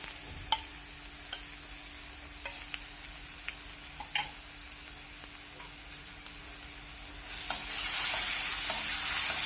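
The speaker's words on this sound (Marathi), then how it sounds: "मिरचीचा कच्चेपणा जाईपर्यंत 1-2 मिनिट हे परतून घेऊया।" Green chili paste with curry leaves sautéing in a pan, a steady soft sizzle with scattered clicks of a spoon stirring, growing louder and hissier near the end.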